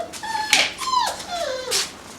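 Doberman puppies from a litter whimper and yip in a run of several high, rising and falling cries, close and fairly loud, with no talk over them.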